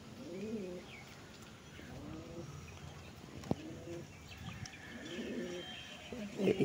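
A deep-eyed female Andraline pigeon coos in repeated soft, low bursts at close range, with one sharp click midway and faint chirps nearby.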